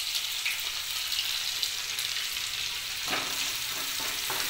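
Onions fry and are stirred in a pan for a Maharashtrian zunka, a bright continuous sizzle with scraping stirring strokes near the end, no talking.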